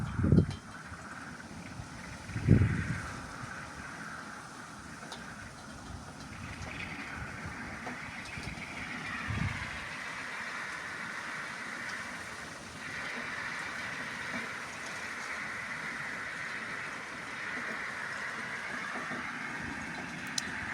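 Steady car engine hum with road and tire noise inside a moving vehicle, a couple of bumps near the start, no talking.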